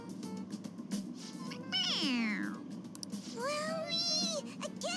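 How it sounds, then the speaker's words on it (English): Toy cat meowing when pressed on the head in Persona 5 Royal, two short bright meows in quick succession, faint, mixed with quiet voices. "It meows when you press on its head."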